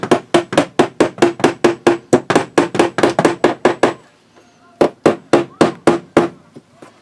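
A hammer strikes a nail near the ceiling, turned sideways rather than using the head, in a rapid, even series of sharp blows, pauses briefly, then resumes with several more hits.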